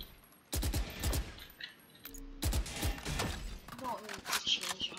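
Gunfire in the Valorant video game comes as two loud bursts of rapid shots separated by short pauses, followed by scattered mechanical clicks and effects.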